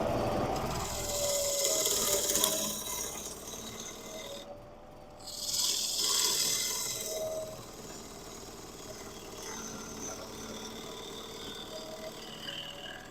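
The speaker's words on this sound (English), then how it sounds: "turned a quarter of a bead with the bow gouge" A bowl gouge cuts a bead on a wood lathe with a raspy scraping whir that swells and fades in passes, set over the spinning lathe's steady hum.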